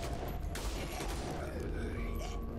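Gunfire in a first-person shooter game, a dense continuous rattle of shots and mechanical clatter that runs throughout, loud and steady.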